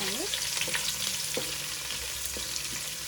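Onions frying in a pan for biryani crackle and sizzle loudly and closely, with brief scraping stir strokes breaking through the continuous hiss.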